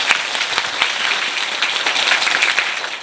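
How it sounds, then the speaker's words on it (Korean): Audience applause during a lecture by a Korean celebrity teacher, loud, continuous clapping from a crowd with a few sharper claps standing out, steady throughout. "박수."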